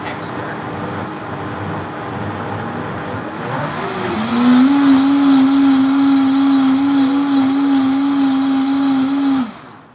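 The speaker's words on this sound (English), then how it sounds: "It starts low, and then it will blend it up nice and high." Vitamix blender running a squash soup on its soup setting, starting low then ramping up to a loud, steady high-pitched whir that holds for several seconds before cutting off.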